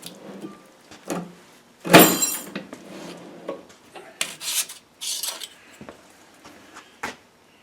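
Combination shear bites through a 20 gauge aluminum sheet in uneven bursts of close metallic crunching and scraping. One loud, harsh cut stands out, with quieter rasps and clanks between the strokes.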